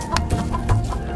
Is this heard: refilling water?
no